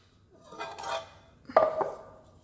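A small Hello Home nonstick pan and pot being handled: two quiet, brief knocks, the second a light metallic clink with a short ring, in an otherwise hushed room.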